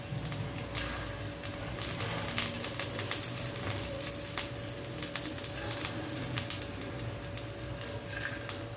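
Capsicum and egg fry in oil over a high flame, a steady, close sizzle full of crackles and spits, with a faint constant hum beneath it.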